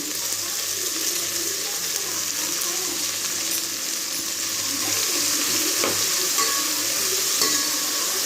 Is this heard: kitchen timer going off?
no